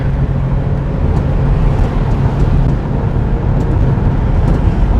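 A Volkswagen van powered by a Subaru engine drives along a road, its engine and road noise forming a steady low rumble with no speech.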